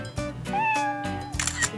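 Playful human voices mimic a cat's meow in drawn-out, rising and falling tones during a lighthearted photo-booth moment on a Korean talk show, several overlapping calls close to the mic.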